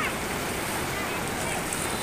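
Broad steady rushing of the swollen Ganga river flowing near Janki Jhula in Rishikesh, a continuous loud wash of water with wind buffeting the microphone, no other sounds standing out.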